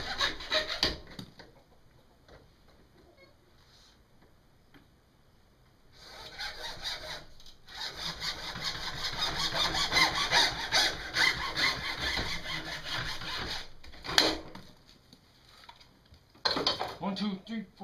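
Wood hand-sawn by hand in a workshop, bursts of rasping back-and-forth strokes between pauses, close and moderately loud, with some clattering handling noise.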